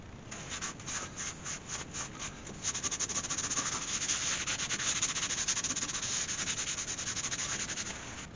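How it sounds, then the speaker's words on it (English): Sand sealer being rubbed onto a turned wooden bowl, a steady close scratchy rubbing that starts in short strokes and settles into a continuous brisk scrubbing, with no talking. "now I'll just put some sand sealer on there. Get that grain out of the wood."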